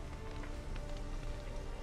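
Rain in the video game The Witcher 3: Hearts of Stone falls as a faint, steady patter on surfaces with a low background hum, quiet and unbroken.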